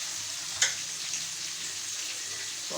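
Food frying in oil gives a soft, steady hiss with one sharp clink near the start, close but fairly quiet.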